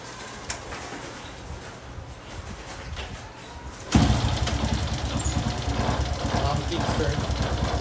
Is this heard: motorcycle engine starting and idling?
yes